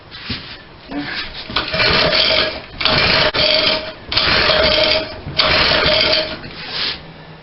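A Parini mini tiller's small engine with a sticky throttle cranks in several short, loud bursts, sputtering and dying each time without catching.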